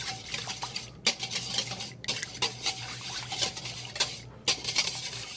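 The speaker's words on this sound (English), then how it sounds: "add our milk. And we're slowly gonna whisk" A whisk clinks and scrapes rhythmically against a bowl as milk is slowly whisked into a sauce for Neapolitan cannelloni. The quick, close strokes come in uneven bursts with brief pauses, and no one speaks.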